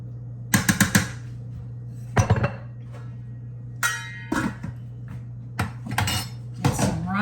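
Cabbage and rice served onto a plate: several sharp, bright clinks and scrapes of metal utensils against dishes come in short separate bursts, close and clear over a low steady hum.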